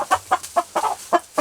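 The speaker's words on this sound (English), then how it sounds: "this is my pullet, my oldest pullet that I'm keeping. That's an Aseel Liege cross." An Aseel Liege cross pullet clucks close by in a quick, uneven series of about seven short, throaty calls, with a low steady hum running underneath.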